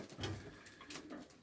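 Pigeons cooing softly in a loft housing young birds, several low murmuring coos overlapping close by in a quiet indoor space.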